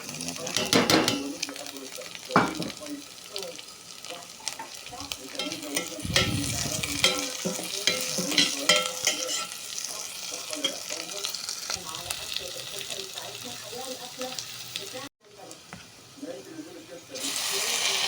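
Rice coated in oil and ghee is stirred in a pan, with ongoing sizzling and frying, scraping of a utensil against the pot and occasional clinks, while someone talks over it.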